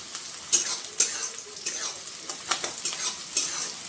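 Onions frying into birista in a pan, a steady sizzle broken by repeated sharp stirring scrapes of a spatula against the pan, close and fairly loud with no voices.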